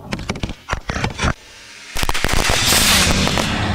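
Bundled fireworks taped together and fused, a rapid cluster of sharp bangs and crackles, then a loud sustained roaring hiss and crackle like a large homemade rocket firing, close and loud with no talking.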